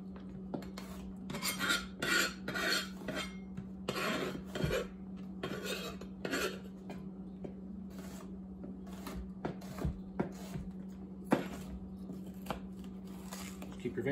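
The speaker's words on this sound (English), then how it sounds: "Keep your fingers out of the way and just slice them down to the size you want them." A knife slices peppers for quesadillas, giving repeated quick cutting and tapping sounds on a board, busiest early and then sparser, over a faint steady hum.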